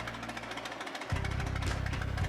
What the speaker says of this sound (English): we're going to start the bike and get it up to operating temperature